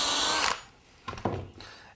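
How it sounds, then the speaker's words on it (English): A hammer drill bores clearance holes through wood, whining loudly for half a second before stopping, then two shorter, rougher bursts of drilling follow after a quiet pause. "These holes that I'm drilling right now are called clearance or shank holes."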